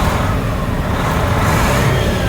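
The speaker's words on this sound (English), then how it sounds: "we let the truck idle for a little bit" A 1999 Freightliner Classic XL truck with a 12.7-liter Detroit Series 60 diesel engine idling, a steady loud low mechanical rumble with even broadband noise, close and continuous without voices.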